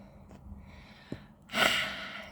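A single sharp breath catches midway, then a loud, heavy exhale after exercise rushes out and trails off, close to the ear.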